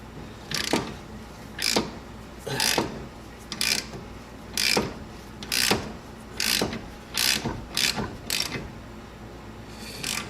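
A ratchet on a ball joint press on a Jeep TJ clicks through about a dozen evenly spaced, close, crisp strokes, each a short burst of pawl clicks, with no talking.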